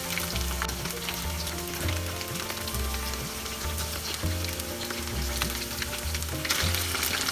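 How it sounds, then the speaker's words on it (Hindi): Chicken pieces deep fry in oil for orange chicken, a loud, dense bubbling sizzle that runs without pause, close up and alone with no talking. "जब तक नाइस गोल्डन कलर नहीं हो जाता है तब तक हमें दोनों साइड फ्राई करना है।"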